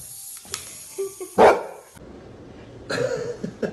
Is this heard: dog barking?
yes